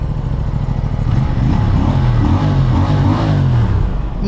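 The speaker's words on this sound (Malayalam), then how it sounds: "അടിപൊളി എക്സോസ്റ്റ് സൗണ്ട്, മാരക എക്സോസ്റ്റ് സൗണ്ട്" A new Aprilia RS 457 motorcycle revs loud and close, its exhaust note rising and falling in throaty, steady pulses with no talk.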